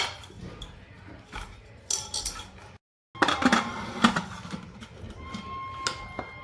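A steel container set on a ring inside a pressure cooker gives scattered metallic clinks and knocks, close and fairly quiet, with a short silent gap partway through.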